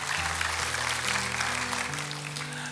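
A church congregation claps together in a broad, steady wash of applause during a worship service, with sustained organ or keyboard chords under it.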